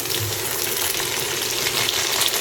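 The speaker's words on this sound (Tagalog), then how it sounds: "Iprito lang muna natin itong carrots at patatas." Carrots and potatoes sizzle and crackle steadily in a hot pan, a continuous loud frying hiss with no voices.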